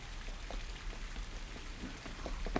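Steady rain falls on a surface in Xiamen, a dense even patter with scattered distinct drops, continuous and moderately close with no voices.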